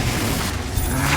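A Confringo blasting spell explodes in Hogwarts Legacy, a loud, full booming burst that fills the short moment with dense low rumble and a sharp crack near the end.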